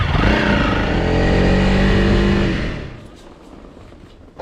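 A motorcycle roars past on the road, loud and close for about two and a half seconds, then fades away quickly into faint background noise.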